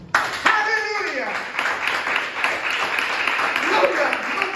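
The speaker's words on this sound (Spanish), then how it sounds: "Den un aplauso a Jesucristo." Church congregation clapping in a Spanish-language worship service, a dense burst of applause mixed with voices calling out over it, steady and close for several seconds.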